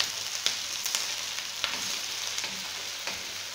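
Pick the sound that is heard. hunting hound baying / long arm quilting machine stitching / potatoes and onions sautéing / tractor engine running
potatoes and onions sautéing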